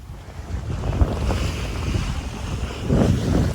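A sailboat heeling hard under full sail on the open Pacific, loud wind buffeting the microphone over rushing water and waves against the hull, a continuous roar swelling near the end.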